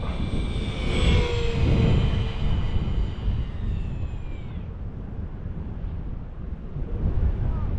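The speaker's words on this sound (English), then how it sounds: "And wind is picking up." Steady wind buffeting the microphone at a winter RC glider flying field, a continuous rumbling gust that swells and eases, with a faint whining model aircraft motor passing overhead early on.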